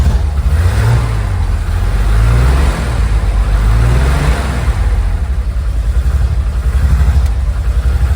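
A cold 1969 Chevy C30 truck engine idles loudly close by, a deep rumbling drone with a slightly uneven, wavering pitch that rises and sags over several seconds, with no speech.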